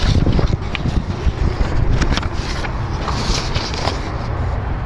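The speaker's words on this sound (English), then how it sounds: "Oh, it's windy today." Wind gusts outdoors beside a 2013 Subaru WRX Limited under repair, a loud, rough rush of buffeting wind noise that swells and eases over a few seconds.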